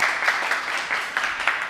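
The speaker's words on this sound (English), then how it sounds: "give me a round of applause as if I'm just coming on stage" Audience at a public-speaking talk giving a short burst of applause on cue, steady moderate clapping across the brief moment with no one speaking over it.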